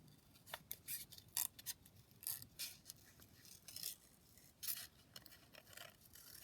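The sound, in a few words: scissors cutting out a paper rosebud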